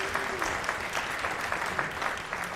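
Applause at a jazz and wind concert, moderately quiet and steady, with distinct claps pulsing through a soft crowd wash and a brief tonal trace underneath.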